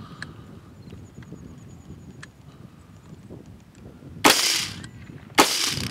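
Two sharp, loud AR rifle shots ring out outdoors in the dirt, spaced about a second apart, over a steady low rumble of background noise with a few faint clicks earlier.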